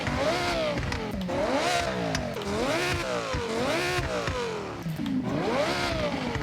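An Audi R8 GT RWD in Forza Horizon revs hard and shifts repeatedly, its engine pitch climbing and dropping in a steady cycle of high-RPM sweeps, loud and continuous.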